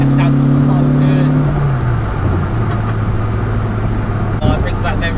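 Renault Clio 172 Phase 2 with a naturally aspirated engine, loud and close, revving up through the rev range with a rising engine drone that drops and settles into a steady hum.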